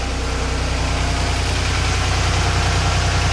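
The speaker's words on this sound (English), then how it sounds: "engine on." A boat engine idles steadily inside its engine compartment, a loud, close, constant low rumble with an even throb that never changes.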